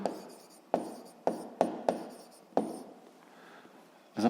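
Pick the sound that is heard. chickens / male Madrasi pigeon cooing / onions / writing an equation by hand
writing an equation by hand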